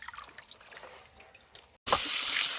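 Coriander seeds being washed before cooking bring faint drips and small water sounds at first, then after a short break a sudden louder rush of running water fills the rest, close by.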